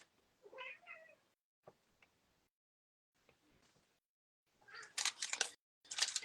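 A cat meows on a desk indoors with a brief, faint call near the start. Louder rustling or clicking noises follow near the end.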